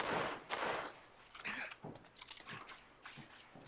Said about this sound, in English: Do you like my shotgun, guys?